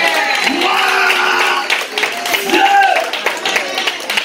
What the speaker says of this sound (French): Je vais entendre des cris d'acclamation.